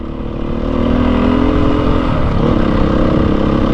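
A Beta motorcycle engine putts along at a slow, steady pace. It gives a loud, close, continuous low drone with a rough rumble that holds even from start to finish.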